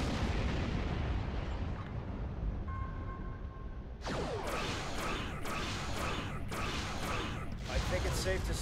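An old Romulan warbird starship opens fire with its weapons in Star Trek Online, several sharp, loud energy blasts sounding in quick succession over a constant low rumble of engine and ambient noise.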